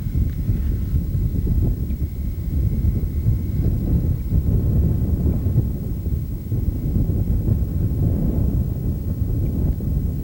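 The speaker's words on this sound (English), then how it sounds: "And it's windy up here, as you can tell." Steady low rumbling buffeting of strong wind against the microphone, continuous and loud throughout.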